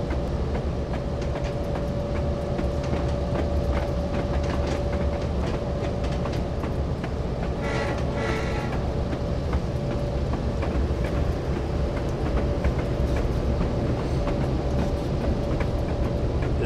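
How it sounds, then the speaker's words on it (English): A loud, steady diesel train rumble with rhythmic wheel clatter and a sustained tonal hum fills the whole span, an EMD WP FP7 locomotive in Train Simulator's Feather River Canyon route. "Oh, got a train waiting for us."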